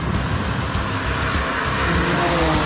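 A 2014 BMW M4 drives with a steady, loud engine roar and road noise running continuously throughout, with no voices present.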